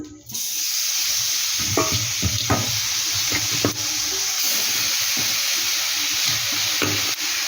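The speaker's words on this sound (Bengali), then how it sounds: "এরকম আমি কড়াইতে দিয়ে দিচ্ছি" Milk puli pitha goes into a hot wok with a loud, close, continuous sizzle, broken by soft scraping and clinks of a spoon or utensil, with no one talking.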